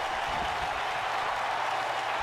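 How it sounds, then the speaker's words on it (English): Wrestling audience cheering for Mercedes during a match, a distant, steady wash of crowd noise and applause with no distinct voices standing out. "The crowd trying to rally their support."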